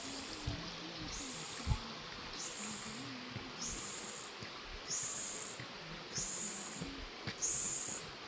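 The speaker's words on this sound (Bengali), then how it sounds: "ঝিঝি পোকার ডাক অনেকদিন পর শুনতে পাচ্ছি।" Shrill cricket chirps come in regular bursts roughly once a second over a low rushing background, a faint distant-sounding chorus with no talking.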